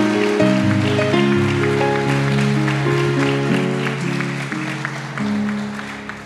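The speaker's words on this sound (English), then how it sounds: "let's clap our hands for the spokeswoman for the King of Glory" A church congregation claps for Pastor Donna Battle as she is welcomed, a steady broad wash of applause heard alongside sustained organ or keyboard chords that shift through the passage.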